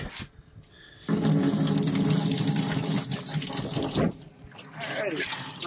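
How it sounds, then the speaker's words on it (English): Fuel filter parts from a 2018 Grizzly 700 are rinsed under a running tap: a steady, close hiss of splashing water starts abruptly, pours for about three seconds, then cuts off, leaving quieter dripping and handling sounds. "I'm going to take all those pieces, wash them thoroughly, flush them out"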